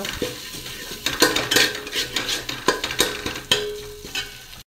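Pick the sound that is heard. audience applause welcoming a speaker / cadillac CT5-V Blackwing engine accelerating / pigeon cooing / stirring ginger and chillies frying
stirring ginger and chillies frying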